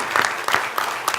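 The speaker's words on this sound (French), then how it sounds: "Je vous prie, s'il vous plaît, de les applaudir." An audience in a hall at a business association's presidents' introduction claps, a brief burst of scattered hand claps mixed with murmuring.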